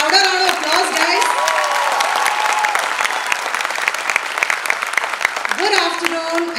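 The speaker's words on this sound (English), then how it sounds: "Have a louder round of applause, guys" Sustained applause from a Republic Day audience fills the hall, steady and fairly loud throughout, with a voice speaking over it at the start and again near the end.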